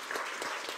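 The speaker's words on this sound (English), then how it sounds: "Give him a round of applause." A short burst of applause at a Sunday church service, steady clapping from a crowd filling the moment without any voices.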